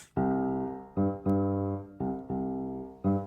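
Piano chords repeat in a steady dotted-quarter and eighth-note Latin rocking pattern, sustained tones broken by short re-strikes, played clearly with no voices.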